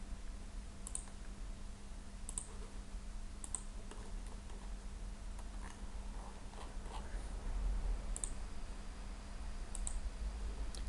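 Computer mouse clicking while working in Fusion 360, giving faint, sparse single clicks spaced a second or two apart over a quiet room hum.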